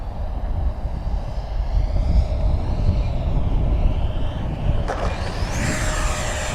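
Small Banana Hobby X-FLY T-7A radio-controlled jet with a 64mm ducted fan making a touch-and-go landing, a steady whooshing turbine whine under wind noise that swells near the end as the throttle comes up.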